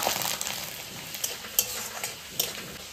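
Black cumin seeds and garlic sizzling in hot oil in a pan, a steady soft frying hiss with a few sharp stirring clicks and taps from a utensil.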